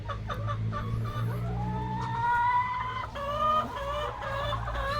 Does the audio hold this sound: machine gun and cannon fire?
no